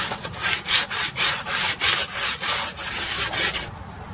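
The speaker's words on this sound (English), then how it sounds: "let me grab some sandpaper real quick. I want to clean that up" Sandpaper rubs back and forth over a Cummins truck drive shaft during a U-joint change, about a dozen quick rhythmic scrubbing strokes, close and loud, with no voices.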